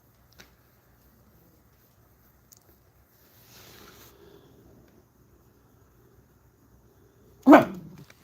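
A dog gives a single short, loud bark near the end, after long near-silence broken only by faint rustling.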